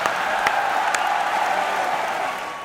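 Audience clapping steadily throughout at a Hindi hasya vyangya comedy show, a dense, even wash of applause that stays loud from start to finish with a few sharper claps standing out.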